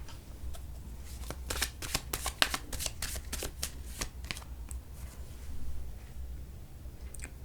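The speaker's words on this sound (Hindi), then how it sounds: "थोड़े और कार्ड्स लेते हैं, इस रीडिंग को पूरा करते हैं।" Tarot cards riffled and shuffled, then drawn one by one during a reading, giving a close run of crisp papery flicks and snaps over a faint low hum, with no talk.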